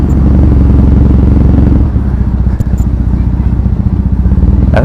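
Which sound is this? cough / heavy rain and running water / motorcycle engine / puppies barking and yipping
motorcycle engine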